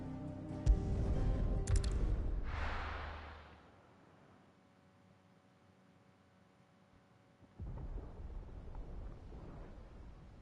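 Thunder in the video game Final Fantasy XVI: a loud rolling crack and rumble that fades into near-silence, then a second, quieter rumble returns toward the end.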